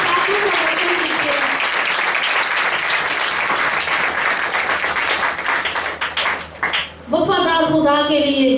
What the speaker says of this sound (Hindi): जोरदार तालियों से पाक रूह का स्वागत कीजिए।